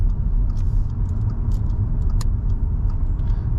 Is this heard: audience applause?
no